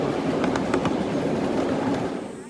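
Steam train rolling past at the Hesston 2023 Steam and Power Show, a steady close rumble with faint rhythmic wheel clatter that fades slightly at the end.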